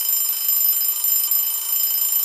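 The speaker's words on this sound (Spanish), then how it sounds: "Oh, ese sonido es del despertador." An alarm clock rings in an animated children's story with a steady high-pitched electronic ringing, loud and continuous, with no talk over it.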